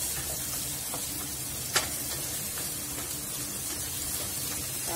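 Onion frying in oil in a pan for sinigang, a steady close sizzle and crackle with one brief sharp tick partway through, no voices.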